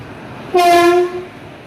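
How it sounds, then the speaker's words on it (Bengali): A loud, steady horn blast from the 2230 Asansol–Haldia Superfast Express sounds for about a second over low rumbling as it enters platform 1 at Midnapore station, then fades out. "2230 আসানসোল হলদিয়া সুপারফাস্ট এক্সপ্রেস মিদনাপুরের 1 নম্বর প্ল্যাটফর্মে ঢুকছে"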